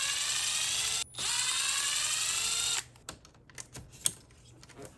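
Power driver whirring as screws are backed out of a Traxxas X-Maxx 8S RC car, one long steady run and a short burst, followed by light clicks and handling of small metal parts close by.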